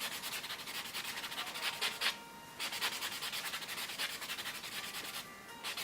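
Fingernails buffed after a nature nail refill, a steady close rubbing and sanding scrape that keeps going with only a short pause partway through.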